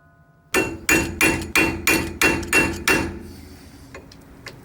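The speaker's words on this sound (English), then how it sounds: "I had to take the wheels off once again so I could stake the axle nuts into the notches in the axles" A hammer stakes the axle nuts into the notches of a Miata's rear axles in eight sharp, evenly spaced metallic blows, close and loud, each ringing briefly before the next, then a quiet tail.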